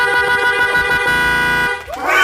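A Honda XRM fuel-injected motorcycle horn blares in a loud, sustained, steady honk close by, ending with a short shift in tone as it cuts off.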